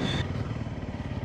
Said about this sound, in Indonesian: Apa ya motor apa ini? CB apa gimana kok?